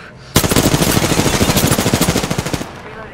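Spitfire light machine gun in Apex Legends fires one sustained, loud automatic burst of about two seconds, with evenly spaced rapid shots, close and unbroken until it stops abruptly.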